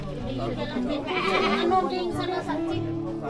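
A goat bleats repeatedly at a puja sacrifice in Gitkhola, Kalimpong, its wavering cries rising over a busy crowd of voices and children.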